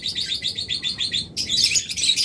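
Caged birds chirp in a shop, with mynas, parrots, lovebirds, budgerigars and cockatiels present: rapid, bright, repeated tweets sound close and steady, then swell into a denser, louder chorus of overlapping calls.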